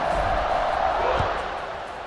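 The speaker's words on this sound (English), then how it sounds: "this crowd is buzzing after that last score" A stadium crowd buzzes in a continuous, dense roar in EA Sports College Football 26, a steady wash of cheering that eases slightly toward the end.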